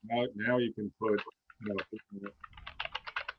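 Computer keys clatter in a quick, uneven run near a live microphone during an online webinar, starting after a man's short spoken phrase and continuing alone to the end.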